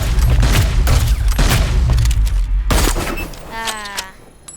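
Rapid bursts of plasma gun and grenade launcher fire boom and crackle in the video game Hyperscape, then fade into lighter mechanical clicks and a thin whine.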